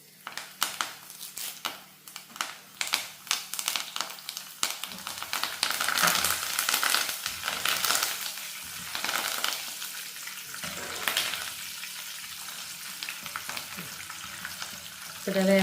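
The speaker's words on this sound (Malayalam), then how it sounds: "ഇനി നമുക്കിതിൽ കുറച്ച് വേപ്പില വറുത്തെടുക്കണം കേട്ടോ." Curry leaves frying in coconut oil in a pan, a loud, steady crackling sizzle that swells as the leaves hit the hot oil and continues close by, with occasional stirring scrapes.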